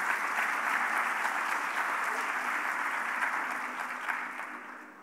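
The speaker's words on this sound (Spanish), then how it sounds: "Dale un aplauso al Señor." A church congregation claps for the Lord during a sermon, a sustained wash of applause heard from a moderate distance that fades gently in the last second.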